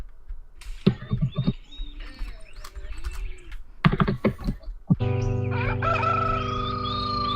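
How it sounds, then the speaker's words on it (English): A rooster crows in the Dungeon Realms game, a long sustained harmonic call near the end after scattered clicks and taps, fairly close and loud. "Hear that rooster crowing."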